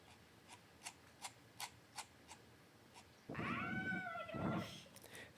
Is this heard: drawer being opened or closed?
no